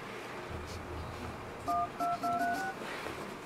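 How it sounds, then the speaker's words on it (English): Phone keypad dialing tones from an Android tablet, the Ainol AX Note9 Numy 3G: four short beeps in a quick run, clear over steady room noise. "dialing a number."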